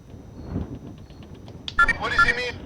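Electronic phone tones from a handset menu in the horror game Perception, a short burst of bright beeping chimes near the end following a stretch of quiet background murmur.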